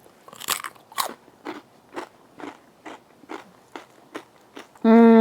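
Close, loud crunching bites into smoked, deep-fried crispy pork belly skin repeat in a steady rhythm, about ten sharp crackly snaps, ending with a sudden burst of other sound.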